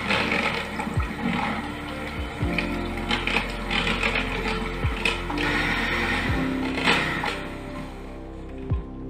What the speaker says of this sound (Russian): И теперь взбиваю это все в пышную пену.